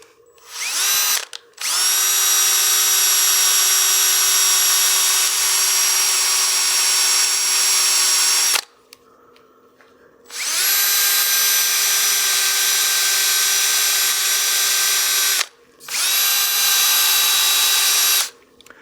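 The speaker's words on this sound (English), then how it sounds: "Let's go ahead and sand those a little more." A power sanding disc whines steadily against a wood-turned cake stand on the lathe, running in three long sustained passes with short pauses between them, loud and close with no talk.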